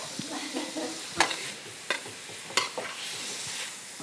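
Ingredients sizzle in a frying pan while a utensil stirs and scrapes them, with a few sharp clanks against the pan over a steady, close frying hiss.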